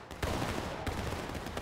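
A company musket volley crashes out in War of Rights, a dense ragged burst of overlapping gunfire close by, followed by a few scattered later shots.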